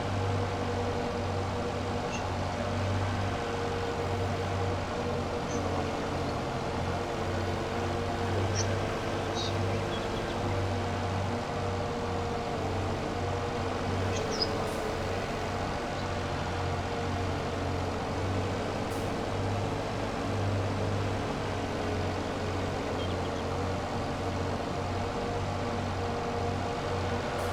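Steady tractor engine drone from Farming Simulator 22 runs through a field-harvesting session, a constant low hum with a few faint clicks and no spoken voice.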